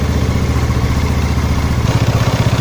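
A Yamaha Mio motorcycle engine idles steadily with a close, rhythmic putter while its carburetor air screw is being adjusted, and the tone drops lower and rougher partway through.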